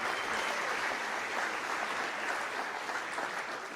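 An audience claps steadily, a dense wash of applause that holds at an even level throughout.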